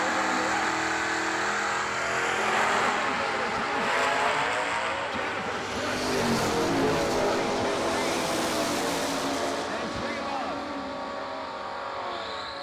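A Camaro and a Mustang line up for a drag race at a New Year Nationals event. Engines rumble and rev loudly at close range, rising and settling over a steady roar, while an announcer's voice talks over the noise.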